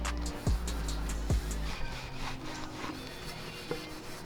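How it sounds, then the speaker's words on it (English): Rag rubbing polishing putty into a used Tomei exhaust pipe, a quiet dry back-and-forth scrubbing with soft rhythmic strokes and a couple of light knocks, close and faint. "take some more putty, rub it into the rag, make sure I get it in there nice and good."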